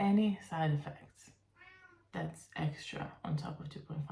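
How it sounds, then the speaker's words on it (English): A pet cat meows once, a short drawn-out cry heard close by in a pause between stretches of someone talking. "Excuse my cat, it just likes to meow."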